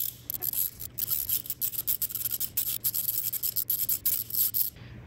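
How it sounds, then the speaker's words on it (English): A wrench works loose a corroded stud on an MG Midget engine that has two nuts jammed together, giving a run of quiet, rhythmic rasping and grinding bursts with short gaps between turns. "I'm going to try to unspin this stud using this wrench"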